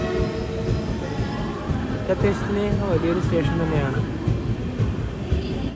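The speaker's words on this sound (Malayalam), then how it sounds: "ഓ, ഇവിടെ തന്നെയാണ് ഒരു ഗുഡ്സ് ട്രെയിൻ ഉള്ളത്" Goods train at Kalyan station on a rainy monsoon day, a steady rumbling rail noise with some squeal running throughout while someone talks over it.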